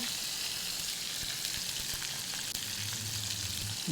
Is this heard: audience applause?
no